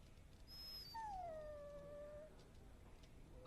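A dog in the video game Dragon Age: Origins lets out a single drawn-out whine that slides downward, heard alone over a faint hum, moderately close and fairly quiet.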